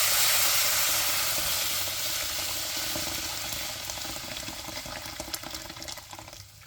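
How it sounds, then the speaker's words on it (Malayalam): Boiling water pours into a pan of sizzling fish curry masala, setting off a loud rush of hiss and bubbling that slowly fades and settles into a quieter simmer, with faint crackles near the end. "തിളച്ച വെള്ളം ഇവിടെ ഒഴിച്ചു കൊടുക്കുക കേട്ടോ"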